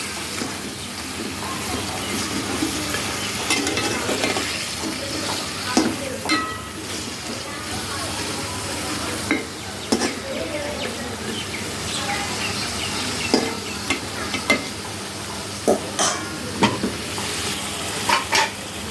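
Steady sizzling of chopped vegetable stems frying in a pan, with repeated scraping stirs at irregular intervals throughout.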